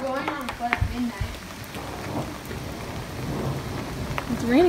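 Heavy rain pouring down in a steady, dense hiss outdoors at night in St Lucia, heard while on foot, with brief voices calling out over it near the start and end.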